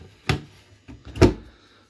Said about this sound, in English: I'll just pop this door back in place